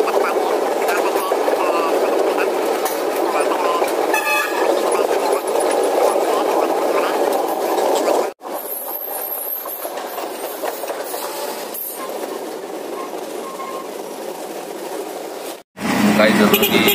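Train sounds at Silchar railway station in India, a steady loud rumble of rail transport with a brief break partway through, heard under nearby talk.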